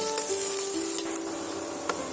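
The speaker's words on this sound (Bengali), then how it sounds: "পেঁয়াজটা আমি সঙ্গে সঙ্গে সুন্দর করে লাল লাল করে এই জিরের সঙ্গে ভাজা করে নেব" Chopped onions fry with cumin in hot oil, giving a steady, close, bright sizzle that runs unbroken throughout with no voices.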